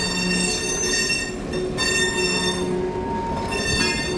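The Cave Train Adventure ride train rolls along with a steady rumble, while high wheel squeals ring on and off throughout and no voices are heard.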